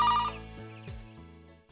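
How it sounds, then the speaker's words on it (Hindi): A telephone ringtone sounds in a short electronic melodic burst of a few tones, close and clear, with no talking over it. "लगत बा फोन आ गई।"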